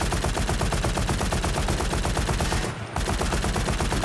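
A minigun from a DOOM weapons mod in Garry's Mod fires a rapid, unbroken stream of loud shots, briefly cutting out for a moment before resuming, with no speech.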